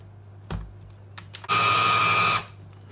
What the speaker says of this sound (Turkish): Ve tekrar mikserden geçireceğim.